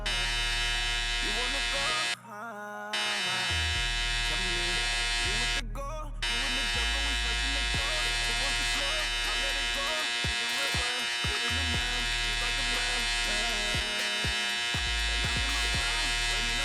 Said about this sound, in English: all I'm gonna do is open the lever on the clipper and I'm gonna just lay down the next line